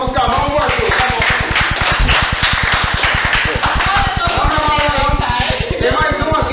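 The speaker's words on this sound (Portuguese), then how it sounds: "Esse aqui é uma salva de palmas com a mão, o Arthur" Rapid, steady hand clapping from a crowd, loud and rhythmic, with voices and cheering mixed in.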